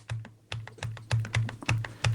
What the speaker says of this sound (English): So right now I hear you typing.